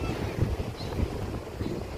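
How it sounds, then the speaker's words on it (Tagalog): Strong ocean waves on a beach wash in with a rough, continuous roar, mixed with heavy wind buffeting the microphone, loud and close with no talking. "Malakas din pala yung alon dito mga kaidiyas."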